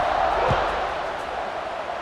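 Stadium crowd noise from EA Sports College Football 26, a broad, steady roar of fans cheering throughout with a brief low thump near the start.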